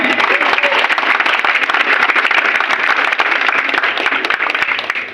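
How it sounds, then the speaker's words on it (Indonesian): A crowd applauds at a political campaign event, with sharp, dense clapping that keeps up steadily and evenly for the whole stretch. "Tepuk tangan semuanya."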